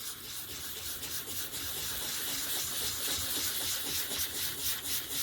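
Sandpaper rubbed in circles over a plastic LED diffuser, a close, steady rhythmic scratching and scuffing that continues throughout, fairly quiet.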